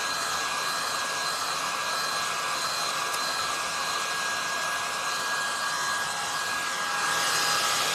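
Hair dryer blowing steadily on a decoupage steampunk woman wall picture, a continuous loud whooshing hum that holds evenly for the whole stretch and swells slightly at the end.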